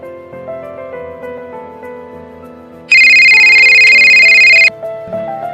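A mobile phone ringtone plays a melodic tune that swells into a loud, sustained bright ringing section before dropping back to the softer melody, alone with no talking.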